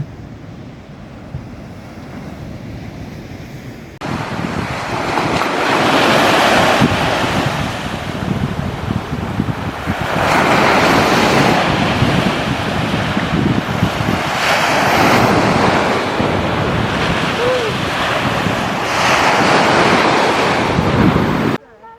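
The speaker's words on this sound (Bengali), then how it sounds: "সমুদ্রের ধারে বিচে বসে সমুদ্রের গর্জন দেখতে দেখতে" Black Sea waves roar and crash onto the beach at Akçakoca, Turkey, in repeated surges, loud and close, with heavy wind rumbling across the microphone.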